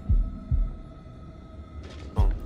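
Heartbeat in the video game House of Ashes: deep, thumping low pulses, a double beat followed after a pause by another loud thump, over a faint droning hum.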